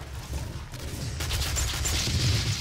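Rockets firing and exploding in the video game DOOM, a dense rumbling barrage of booms and blasts building louder toward the end, heavy low-end roar with crackling debris.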